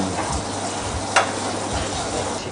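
Fennel frying in olive oil in a pan, a steady loud sizzle with a brief clatter of stirring midway, no talk.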